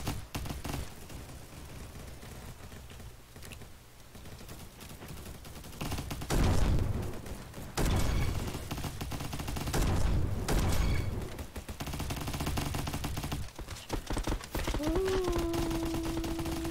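Gunfire in a shooter video game, with bursts of rapid shots clustered in the middle of the clip over a busy game background, ending with a sustained electronic tone.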